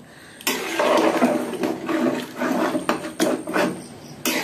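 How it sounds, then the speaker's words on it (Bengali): Water pours into a cooking pot of chicken khichuri made with rice and lentils, a broad steady splashing rush that starts abruptly and runs with small surges and clatters, close and fairly loud. "সেজন্য আমি পানিও বেশি দিছি।"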